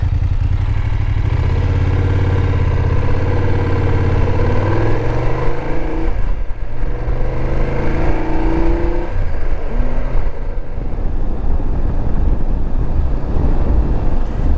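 A car drives along an easy gravel road in Norway with a steady, loud engine drone and road rumble from inside the cabin, a constant crunching roar with slight shifts in engine pitch.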